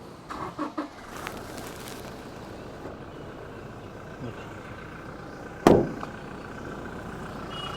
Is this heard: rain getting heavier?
no